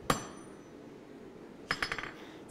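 A 4.5-pound hammer strikes metal while forging tongs, first with one sharp ringing blow, then a quick cluster of several clanging hits after a pause, close and fairly loud.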